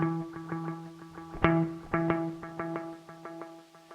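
Electric guitar played through two delays that are not run independently, a repeating plucked line with muddy, galloping echoes stacking up, moderately quiet and alone.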